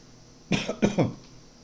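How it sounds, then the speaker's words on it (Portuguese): A short fit of coughing, a few quick, harsh coughs in a row, close and fairly loud against a quiet room. "desculpe pela tosse"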